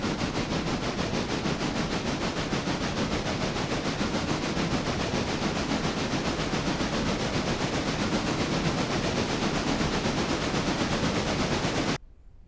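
A logging train running at about 30 rumbles steadily along the rails with a loud, constant clattering roar that cuts off abruptly near the end.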